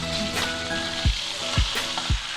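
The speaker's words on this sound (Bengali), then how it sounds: "আগে ওই বিফ স্লাইসটা একটু ফ্রাই করতে হয়।" Beef slices frying in a hot pan give a continuous loud sizzle, with three sharp low thumps of the pan or utensil knocking near the end, close up and without speech.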